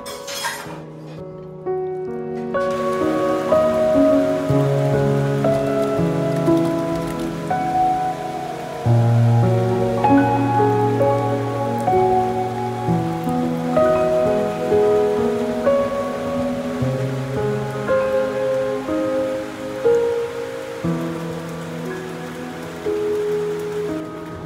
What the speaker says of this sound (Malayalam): നല്ല മഴ അങ്ങനെ പെയ്തുകൊണ്ടിരിക്കുകയാണ്, ചെറിയ തണുപ്പുണ്ട്.